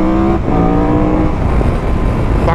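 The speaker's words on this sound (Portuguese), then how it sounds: "O bagulho puxa demais essa moto" A big trail motorcycle accelerates hard through São Paulo traffic, its engine note rising loud and close and holding steady throughout, with no talk over it.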